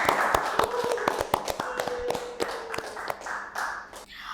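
Guests and audience at a live talk show clap as a final round of applause for the content creator guest, a close, scattered patter of individual claps that keeps going for several seconds with no talk over it.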